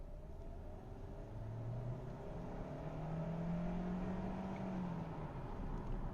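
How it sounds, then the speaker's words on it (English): A 2021/2022 Hyundai Santa Fe Hybrid engine under hard acceleration from about 20 km/h, heard from inside the cabin as a steady, muted rising drone and whir without speech. "I'm going to do a little bit of a hard acceleration here just to see what the engine noise sounds like"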